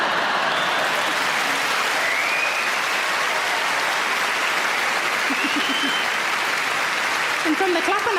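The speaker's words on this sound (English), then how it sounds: "And from the clapping, I can tell I'm not the only one." Applause from a comedy show audience, a broad continuous wash of clapping with a few faint voices and whoops poking through near the end.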